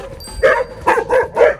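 A dog in a video game barks four times in quick succession, loud and close, with a brief pause after the first bark.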